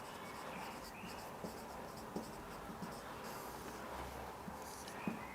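Chalk or marker scratches steadily on a board during a French lesson, a soft, continuous scraping with small taps against a faint room hum.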